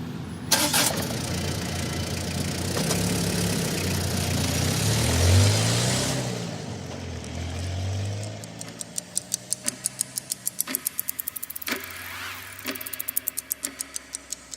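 A car engine turns over and starts, then drives off, the motor fading as steady ticking comes in near the end; no one speaks.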